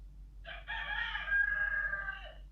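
A rooster crows once in a single drawn-out cock-a-doodle-doo, somewhat distant and moderately faint over a low steady hum, with no talking.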